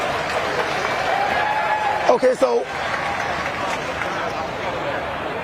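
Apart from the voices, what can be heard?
crowd clapping at election event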